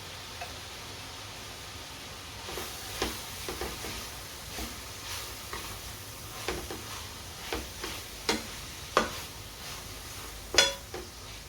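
Mango, paste and cilantro cooking in a single pan for a taco meal, giving a faint steady sizzle with scattered soft ticks and clinks of stirring, close by and quiet.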